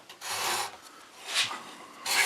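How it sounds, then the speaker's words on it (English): A freshly dressed cabinet scraper pushed across a wooden chair joint to strip glue, giving soft rasping strokes, a few quiet scrapes in a row, close and faint with no talk. "And then we'll bring in that cabinet scraper that we just kind of dressed."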